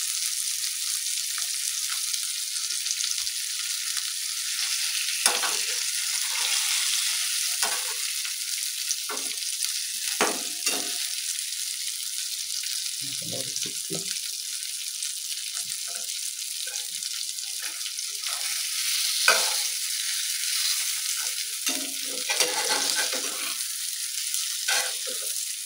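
Bangda mackerel fries in a pan after being flipped, giving a loud, steady high hiss of sizzling oil with occasional spits and soft scrapes, close and continuous with no talk.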